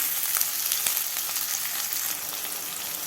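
Finely chopped shallots sautéing in a pan of oil for a drumstick poriyal: a steady, close, crackling sizzle with faint stirring scrapes, continuous and even throughout.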